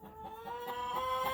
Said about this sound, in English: So I have 3 hens in here laying their eggs